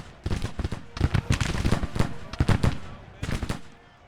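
Rifle volleys from skirmishers crackle in the Civil War strategy game Grand Tactician, with loud clustered shots in irregular bursts and brief pauses, close and punchy.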